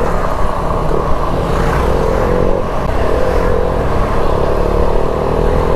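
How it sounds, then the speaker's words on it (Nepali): Motorbike on a ride to Aamayangri, heard as a steady, loud engine drone with a constant rumble throughout, the rider pushing it hard at speed with wind noise, no voices. "उत्सवले त त्यो बाइक बुर पार्दै चलाइरहेछ"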